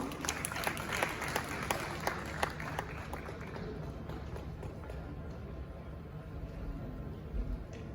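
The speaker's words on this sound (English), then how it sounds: "Shall we do a big round of applause for him?" An audience at the 29th GJA Media Awards bursts into a round of applause, with a dense crowd of sharp claps that is strongest at first and gradually softens while still continuing.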